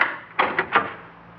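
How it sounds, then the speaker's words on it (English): A door handle rattled and a door pushed open in an old-time radio drama, heard as a few short, close rattling knocks and scrapes in quick succession, with no voices. "I tried the door."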